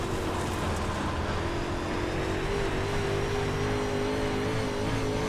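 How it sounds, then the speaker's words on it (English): A dirt-track race car at Knoxville roars steadily as its tires spin, with a continuous loud engine drone holding a high revving pitch and no voices. "just spinning the tires for no reason"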